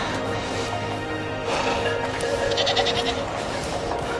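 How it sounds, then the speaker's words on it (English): A group of goats bleats on the Fairy Meadows road, several wavering calls rising over a constant rushing background noise. "A group of goats."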